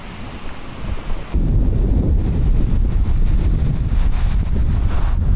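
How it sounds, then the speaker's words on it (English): Strong wind roars and buffets against the microphone in an open outdoor setting in Cappadocia after a sleepless night, gusting louder after the first second and then blowing steadily and heavily with no letup. "This fucking wind is mental."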